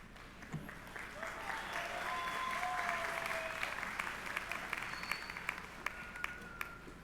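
Audience applause at a 2022 East High School commencement ceremony for honored scholars, a steady wash of many hands clapping for several seconds with faint voices underneath.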